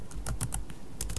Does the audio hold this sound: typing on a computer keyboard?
yes